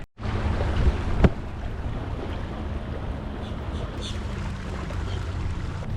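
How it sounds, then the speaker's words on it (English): Wind blowing over a cold lake from a boat, a steady broadband roar and buffeting against the microphone, continuous throughout with a brief knock near the start. "That wind is blowing."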